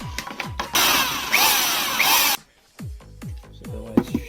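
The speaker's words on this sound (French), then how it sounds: "Donc là, je vais percer" A power drill bores into broken, cut-off bolts on a BMW E36, a loud whining burst of about a second and a half between scattered clanks and knocks of handling, no voices.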